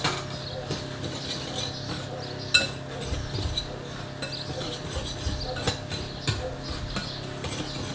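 Cornstarch and sugar stirred together in a bowl give soft scraping with occasional light clinks of utensil on the bowl, close and continuous with no talk.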